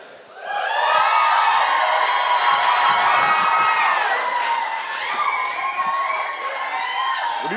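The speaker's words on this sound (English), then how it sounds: "What are you guys cheering about?" A comedy show audience erupts in loud sustained cheering and whooping that swells quickly and holds for several seconds, with many overlapping excited voices.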